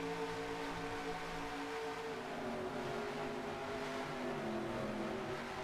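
Stock cars roar around an oval in the NASCAR Racing 2003 sim at Atlanta, a dense, steady engine drone of a pack at speed with overlapping pitches and no pauses, loud and continuous throughout.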